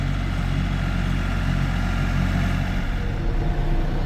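A tractor fitted with a box blade idles close by, a steady low rumbling drone with a faint rhythmic throb that holds evenly throughout.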